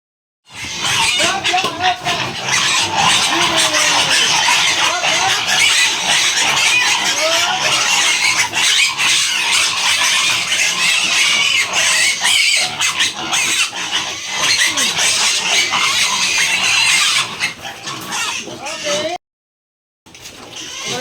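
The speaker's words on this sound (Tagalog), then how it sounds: "Mga ka-farmers, malalakas na pong kumain ulit ang mga baboy." Pigs on a farm, recovering from scouring after treatment with enrofloxacin, feed noisily with continuous wet chomping, slurping and grunting, loud and close. The sound stops abruptly near the end.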